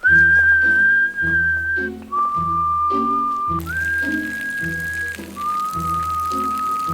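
A person whistles a melody in long sustained notes, clear and close, over a steady low rhythmic accompaniment.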